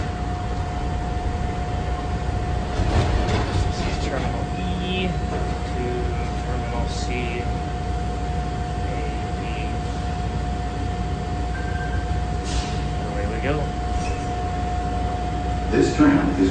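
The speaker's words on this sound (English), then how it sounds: "And we'll head out on this one. On the tram." Airport terminal tram at Las Vegas International Airport carrying passengers between Terminal 1 gates, a steady low rumble and hum of the moving car with a constant tone, occasional clanks and faint voices in the background.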